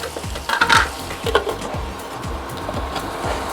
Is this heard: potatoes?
yes